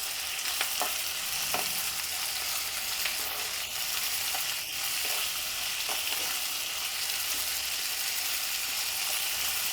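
Onions with a little salt frying in a pan while being mixed, a loud, dense sizzle with occasional scraping stirs and clicks of a spoon against the pan.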